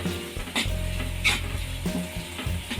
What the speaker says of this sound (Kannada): ಲೋ ಫ್ಲೇಮ್ ಇಟ್ಕೊಂಡೆ ಫ್ರೈ ಮಾಡ್ಕೋಬೇಕು.